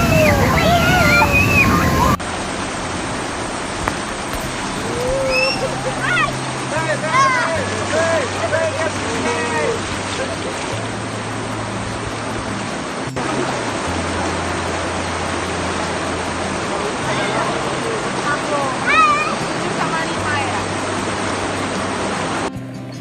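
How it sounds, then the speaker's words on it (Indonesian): River rapids rush in a constant broadband wash during white-water rafting, with a person talking over the noise and occasional background voices. "Nah ini kita arung jeram, seru sih karena debit airnya juga cukup bagus"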